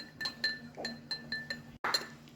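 A spoon clinks against the inside of a glass while stirring a pink Skooma Absinthe drink, with about eight sharp, bright, ringing taps in an uneven rhythm, close and fairly quiet, and a louder final clink.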